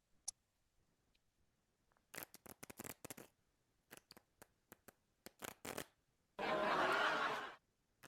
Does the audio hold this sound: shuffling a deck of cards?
yes